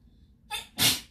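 A single sneeze, close and loud, preceded by a quick sharp intake of breath and then a burst of explosive air, in an otherwise quiet indoor room.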